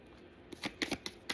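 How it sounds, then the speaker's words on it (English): Oracle card deck being shuffled by hand, a series of quick papery riffles and slaps in short bursts, close and clear with no talking. "One more shuffle."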